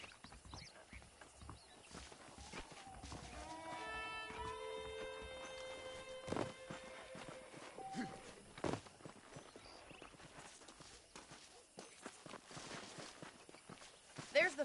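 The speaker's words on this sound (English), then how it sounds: "The horses are saddled up over here." Saddled horses in the Red Dead Redemption video game, hooves clip-clopping at a walking pace near a town's foreman's office, with game music tones and a few brief calls over the steps.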